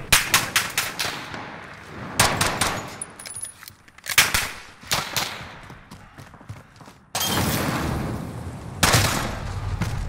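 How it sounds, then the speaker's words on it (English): Shotgun blasts and rapid gunfire in a 2v2 gunfight video game, with loud sharp shots arriving in bursts and clusters, some close and punchy, across the whole stretch. "I got hit with the shotgun underneath."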